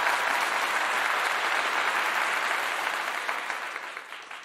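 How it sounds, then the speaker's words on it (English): Steady, dense applause from a crowd washes through for a few seconds, even and fairly full before tapering off gradually at the end, with no voices over it. "A round of applause for you guys."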